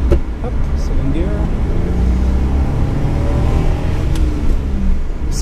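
A 1985 Suzuki Every kei van with a 550cc engine and five-speed gearbox accelerates in second gear, a loud continuous in-cabin engine drone with rising tones and road noise while people talk.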